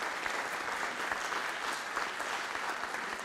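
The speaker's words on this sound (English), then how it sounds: "Let's give them a big round of applause, folks." An audience at a city council meeting gives a steady, even round of applause, soft and somewhat distant, with no speech over it.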